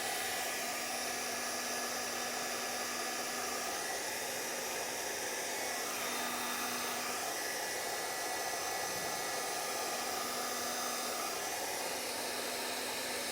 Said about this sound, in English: So I'll grab my heat gun and get that done.